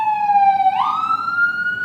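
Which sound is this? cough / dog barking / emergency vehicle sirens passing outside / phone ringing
emergency vehicle sirens passing outside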